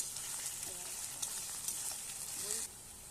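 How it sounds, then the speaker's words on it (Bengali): Onion, chili, garlic and ginger frying in a pan make a steady, moderately close sizzle and crackle throughout, with a few faint scrapes of stirring. "পেঁয়াজ আর লঙ্কা, রসুন আর আদা এটা ছিল, ওটা একটু ভাজা হচ্ছে"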